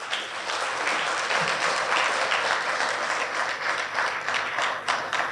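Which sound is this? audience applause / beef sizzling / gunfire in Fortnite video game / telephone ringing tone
audience applause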